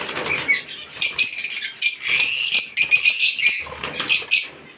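Bird wings flap rapidly and close by in several bursty flurries, with short pauses between the fluttering beats.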